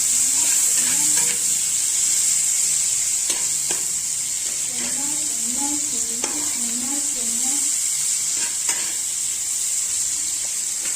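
Onions and brinjal frying and being stirred in a pan, a steady bright sizzle running throughout with repeated scraping stirs, and a voice talking briefly in the middle.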